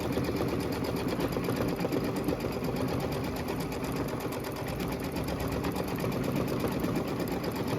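Embroidery machine stitching a placement line for a quilt block, a fast, steady mechanical chatter of needle strokes running continuously at close range without pause.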